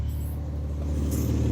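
Mazda K series V6 engine with exhaust leaks settling into idle: a steady low rumble with even, rapid pulsing throughout, close and alone.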